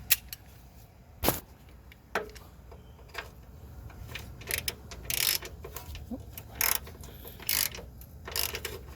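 A ratcheting wrench snugs 12mm bolts on the front upper control arm of a 2003-09 Toyota 4Runner. Short, close bursts of clicking come in scattered spurts against a quiet garage background.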